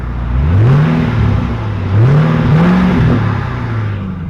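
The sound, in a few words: car engine just started, revving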